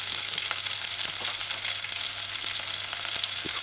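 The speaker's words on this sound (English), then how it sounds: "So add your onions. Let it saute for a little while." Onions and hot scotch bonnet pepper sizzle steadily as they saute in a pan for sweet potato rundown, a continuous close frying crackle with no voices.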